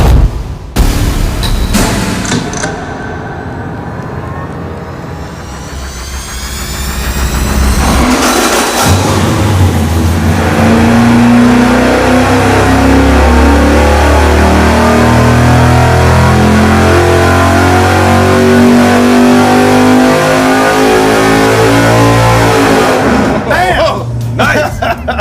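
A 600 hp engine fitted with a solid lifter camshaft revs hard on a dyno, a loud sustained roar climbing through the rpm range after a few short blips, with crowd noise and voices around it.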